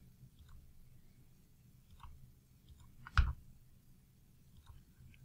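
A computer mouse clicks quietly in a near, quiet room: scattered light ticks and one sharper, louder click in the middle.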